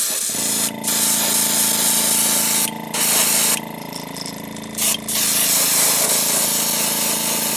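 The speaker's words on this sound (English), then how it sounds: "we're going to come back with Createx Transparent Orange. And I'm going to spray back to front" Airbrush spraying Createx Transparent Orange paint onto a wakeboard, a steady close hiss of air and paint that keeps running with a few brief breaks and dips.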